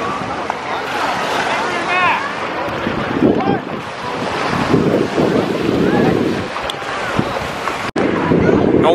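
Atlantic Ocean waves wash onto Brigantine Beach amid strong wind buffeting the microphone, with people talking over the surf.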